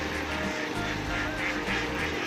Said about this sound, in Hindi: और ये बतखें हैं तालाब में तैर रही हैं